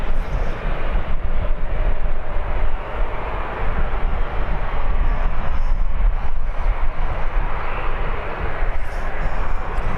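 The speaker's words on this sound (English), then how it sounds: "Air France is finally making its way onto the runway." An Air France airliner taxiing onto the runway at Birmingham airport, heard as a continuous broad engine roar with wind rumble, steady and fairly loud throughout.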